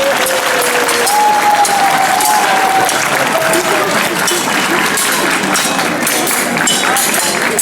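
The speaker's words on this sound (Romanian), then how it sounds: "Să aplaude cine ține cu moldovenii." Outdoor crowd at a medieval siege reenactment at Neamț Fortress in Târgu Neamț claps steadily for the Moldovan side, a dense continuous patter of applause with voices and a whistle-like tone mixed in throughout.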